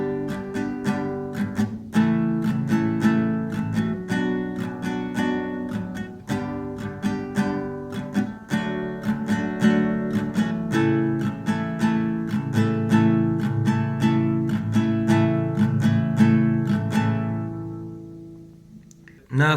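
An acoustic guitar strums the verse chords of a song in a steady, even rhythm, close and moderately loud, ringing out to silence at the end with no voice over it.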